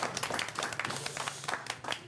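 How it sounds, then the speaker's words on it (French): Studio audience applauding on a French talk show, a dense, steady patter of many hands clapping at once, fairly close and continuous without a break. "Est-ce qu'on peut acclamer Chad,"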